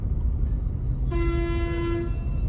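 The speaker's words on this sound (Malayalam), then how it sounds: "എന്താ ഓണടി ബസ്സാണ് ഓണടിക്കുന്നത്" A loud, steady bus horn blares for about a second over the low rumble of an engine and traffic.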